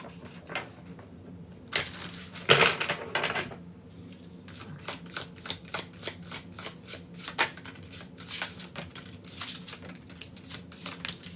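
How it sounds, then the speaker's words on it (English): A tarot card deck is shuffled up close, with bursts of riffling and a steady run of crisp, rhythmic flicks and snaps. "it's really easy to shuffle"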